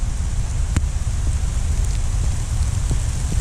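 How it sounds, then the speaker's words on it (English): Heavy rain falls steadily at a bee yard, a dense continuous patter with a low rumbling wash and a few sharper drips or taps standing out. "it started to rain pretty heavily once I got here"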